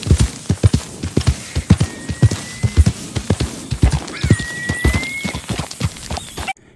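A horse in the Red Dead Redemption 2 video game clip-clops along with a steady run of distinct hoofbeats, and two drawn-out whinnies ring out over the footfalls before the sound cuts off abruptly.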